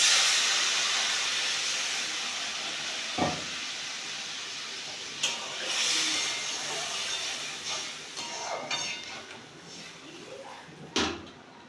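Water poured into hot spiced oil with slit green chillies for a fish curry sets off a loud, broad hiss that slowly fades into bubbling, with a few clunks of a pan or utensil.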